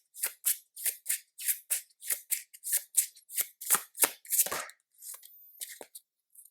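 A deck of tarot cards is shuffled close up in a quick series of crisp riffling bursts, about a dozen in a steady rhythm, then a few looser softer ones at the end.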